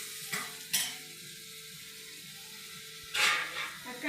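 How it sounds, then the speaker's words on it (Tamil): Spiced curry ingredients frying in a pan while being stirred and mixed: a low sizzle with a few sharp scraping bursts of the spoon against the pan, close by. "எல்லாத்தையும் போட்டு மிக்ஸ் பண்ணிட்டு இருக்காங்க"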